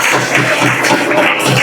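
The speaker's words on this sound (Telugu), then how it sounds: "చప్పట్లు కొట్టి ప్రభు నామాన్ని ఘనపరిచి" Applause from a church congregation glorifying the Lord's name: steady, dense clapping from many hands, continuous and fairly loud throughout, with no talk over it.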